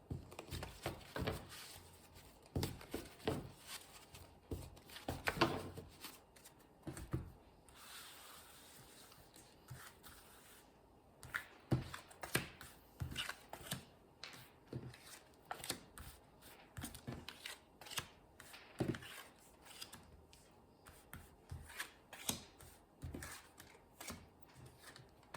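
Tarot cards are shuffled in a long series of quick riffling bursts and soft slaps, close and fairly quiet, with brief pauses between handfuls and no talking.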